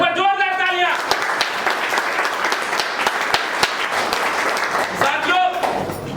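A crowd claps in dense, sustained applause at a business leaders' meeting, loud and continuous for several seconds, with a speaker's voice briefly heard at the start and again at the end.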